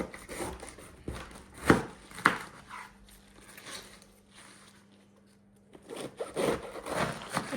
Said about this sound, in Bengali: এখন হচ্ছে নাপা ক্যাবেজটা কাটার পালা।